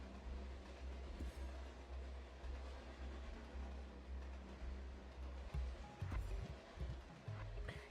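A video game train runs on rails with a steady low rumble and occasional clanks, moderately loud and continuous with no talk.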